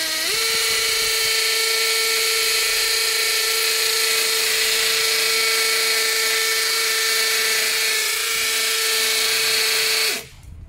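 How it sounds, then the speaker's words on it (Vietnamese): A DCA cordless drill rated 120 N·m, running on 4Ah batteries, drills into concrete with a loud, steady high-pitched whine that runs unbroken for about ten seconds before cutting off abruptly. "mình đi khoan bê tông"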